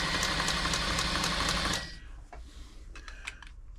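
A Brother XL5012 sewing machine running a stretch stitch, a loud fast rhythmic mechanical whirring that stops abruptly after about two seconds, followed by a few faint clicks and rattles.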